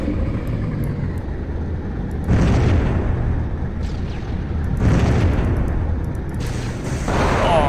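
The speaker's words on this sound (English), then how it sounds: "these anti-tank turrets are actually really good" Heavy booming blasts from anti-tank turrets and their explosions in the Halo SPV3.3 video game, several loud rumbling impacts spaced a couple of seconds apart over a constant low roar of combat.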